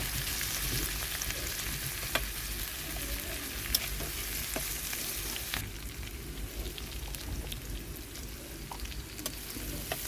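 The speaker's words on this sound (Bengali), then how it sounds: "কাঁচামরিচ আর পেঁয়াজ কুচি বেজে নিচ্ছিল এখানে আলু ভাজি রান্না করবে" Chopped onions and green chilies frying in oil as the base for a potato fry, a steady close sizzle and crackle throughout with light stirring, no voices.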